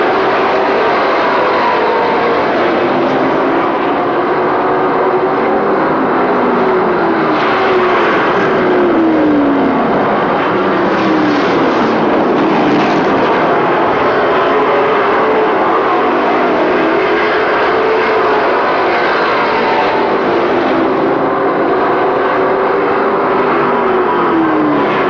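Pro race trucks roaring around an oval track during a 50-lap feature, a continuous dense engine drone with passing trucks swelling and fading, loud and steady throughout with no voices.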